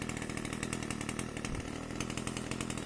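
A repaired gas pole saw that used to be very hard to start now runs at a steady, buzzing two-stroke idle, with an even rapid pulse from start to finish.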